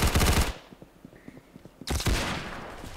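Rapid automatic gunfire in the Roblox shooter Arsenal, a loud rattling burst, a pause with lighter clicks and footsteps, then a second sustained burst close up.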